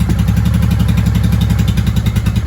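A warmed-up 1995 Honda Shadow VLX VT600CD motorcycle engine runs close and loud with an even, rapid throb. The low pulsing idle stays steady throughout.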